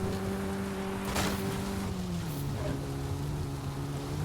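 Engine drone of a vehicle in a driving video game, a steady hum with pitch shifting down and up as it drives, continuous and fairly close under background sound.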